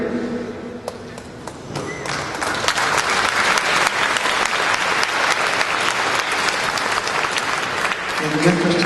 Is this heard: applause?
yes